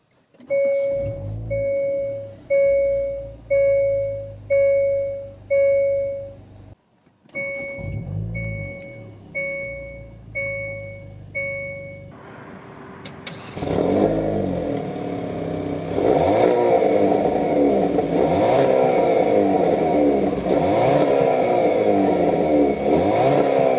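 A 2021 Hyundai Veloster N with a 2-liter engine first sounds a series of evenly spaced electronic warning chimes, then the engine starts with a push-button crank and revs up to a loud, steady idle with rising surges, heard close and without talking.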